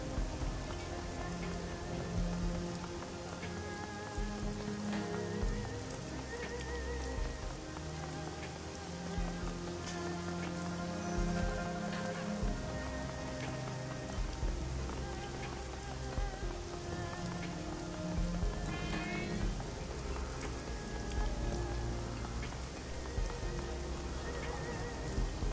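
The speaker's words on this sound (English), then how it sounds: "Despite the wind and rain pelting Heoi" Steady rain falls in the Shadowrun Hong Kong video game at Heoi's harbor stall, a continuous wet patter mixed with wind and a layered musical background, with no break across the whole stretch.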